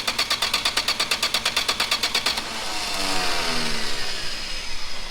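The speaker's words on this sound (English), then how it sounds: "Just crank it until you see the oil like" A 1967 Plymouth four-door's engine cranks over with a fast, even run of loud starter pulses for a couple of seconds, then gives way to a steadier mechanical drone.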